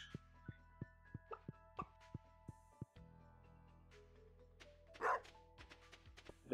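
A dog barks in the farming game Stardew Valley, a steady run of short, evenly spaced barks followed by a few scattered yips and louder bursts against a quiet game background.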